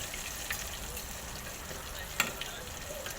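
Dried fish (tuyo) fries in hot oil in a kitchen in Qatar, a steady close sizzle with faint pops and one sharper crackle, some soft voices faintly underneath.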